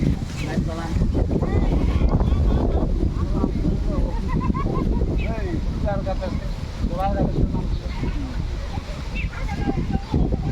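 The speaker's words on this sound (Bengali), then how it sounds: "দেখো বৃষ্টি, হাওয়া, খুব জোর হাওয়া হয়েছে।" Strong gusty wind roars across a village in stormy, rainy weather, buffeting continuously while people talk over it.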